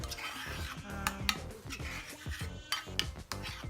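A utensil stirs seasoning into mayonnaise for chicken in a bowl, with repeated scraping and soft clinks in an uneven rhythm, close and moderately quiet, with no talking.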